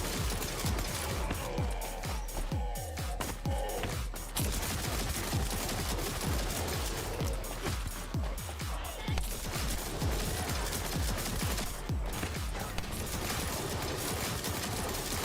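Dense automatic gunfire rattles almost without pause in The First Descendant shooter game, loud and close with rapid overlapping bursts and crashing impacts throughout.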